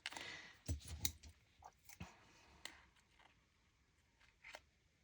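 Scissors snip through material in a few close, crisp cuts with soft clicks, followed by quiet handling noises.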